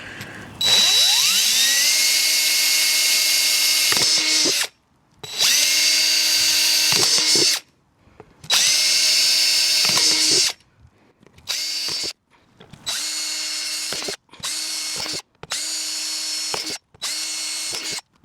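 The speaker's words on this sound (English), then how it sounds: "All I have to do is drill the drainage holes at the bottom of these gray planters." A power drill whines in repeated bursts, revving high and drilling drainage holes in the bottom of plastic planters, long runs at first and then shorter spurts, loud and close.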